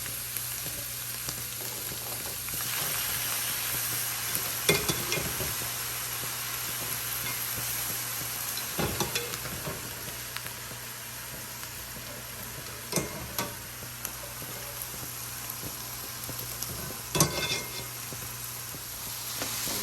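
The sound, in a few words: chow mein noodles stir-frying in a pan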